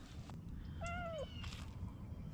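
A cat gives a single clear meow lasting about half a second, falling slightly in pitch, heard at moderate distance over a steady low rumble of background noise in a garage where a car is being worked on.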